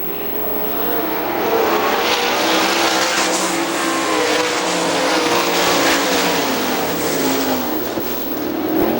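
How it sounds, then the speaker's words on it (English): Sprint race cars lapping a dirt oval at Hartford Speedway Park during a 2001 sprint series race, a loud continuous engine roar swelling and fading as the pack passes close by, with no voices heard. "Craig Kinzer getting by Jason Sides up to 4th"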